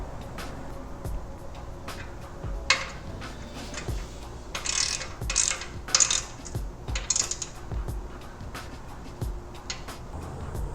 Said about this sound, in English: I'm going to tighten down the support bracket first